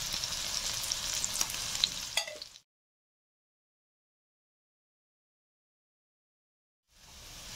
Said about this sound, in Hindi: अब ये कटी हुई प्याज डाल देंगे